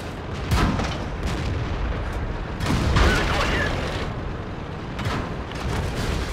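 A tank cannon fires in a PC tank video game, with a few heavy booms spaced seconds apart, each trailing a rumbling roar over constant battle noise.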